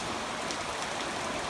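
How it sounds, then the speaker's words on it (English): Gentle rain falls without thunder, a soft, even hiss of drops on surfaces that stays steady and fairly quiet throughout. "With a nice gentle rain. There's no lightning or anything, just rain."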